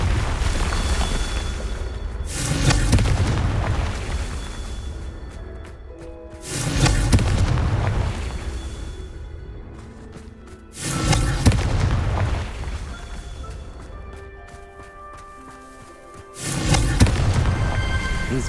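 Confringo blasting spells explode in the video game Hogwarts Legacy: four loud booming blasts spaced a few seconds apart, each followed by a crackling, ringing decay.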